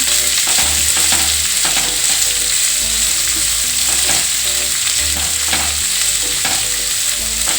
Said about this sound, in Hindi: ये प्याज डाल देता हूँ मैं इसमें, और इनको भी चलाते हुए अच्छे से फ्राई करेंगे